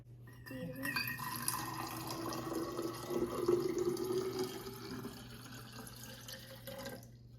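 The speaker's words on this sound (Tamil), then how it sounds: "நெக்ஸ்ட்டு இந்த உள்ள வாட்டர் வந்து இந்த வாட்டர் பாட்டிலுக்குள்ளே ஊற்ற போகிறேன்" Water pours from a container into a water bottle, a soft, steady trickling splash running for several seconds at close range and then stopping.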